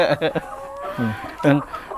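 Laying hens on a small egg farm cluck in several short bursts, fairly close, with a person talking intermittently over them.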